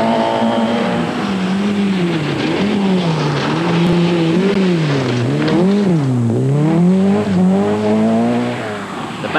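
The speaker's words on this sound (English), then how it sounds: "The battered Ford of Steve Hill after an excursion, but he's going well" Battered Ford rally car in Group N at the 1988 Cartel Rally, its engine loud and near, pitch rising and falling through gear changes and revs as it charges along the stage, with no talk over it.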